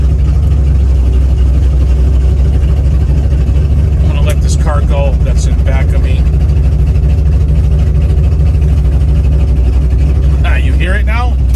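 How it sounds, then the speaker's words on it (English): 1970 Chevrolet Chevelle with its exhaust opened up, rumbling in a low, steady growl throughout while someone talks over it. "I'm gonna open up the exhaust now."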